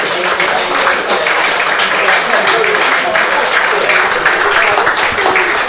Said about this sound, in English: it's a really warm round of applause